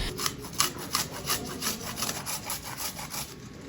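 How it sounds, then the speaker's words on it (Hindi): An inch-long piece of ginger is crushed by hand while making aloo tikki, giving a rhythmic series of close, scraping, grinding rubs at a steady pace, with no voice over it. "एक इंच का अदरक का टुकड़ा लें और उसे क्रश करके डाल दें।"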